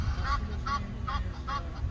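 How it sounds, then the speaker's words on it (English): Egyptian geese nesting on top of a house give four loud, evenly spaced honks about half a second apart, ringing and close over a steady low rumble. "So these poor people are dealing with Egyptian geese that are nesting on top of their home."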